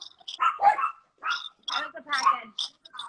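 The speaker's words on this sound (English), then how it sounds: "The guard dogs?" Guard dogs barking in a series of sharp, close barks and yelps with short gaps between bursts, loud and fairly near, mixed with some vocal sounds indoors.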